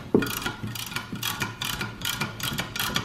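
A hand tool works bolts out of a Ski-Doo Ace 900 QRS short shaft clutch, giving a run of rapid ratcheting clicks in repeated bursts, close and fairly loud with no talking.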